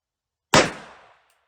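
A single sharp gunshot from a .38 Special revolver firing reloaded Hornady 158-grain XTP rounds outdoors in snow, one loud crack with a short decaying tail.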